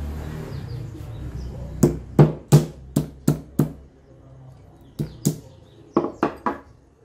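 Brazil nut shells being cracked open on a cloth-covered surface, heard as a series of sharp, close percussive strikes in two bursts of several hits each, separated by a short quiet gap, with faint background noise.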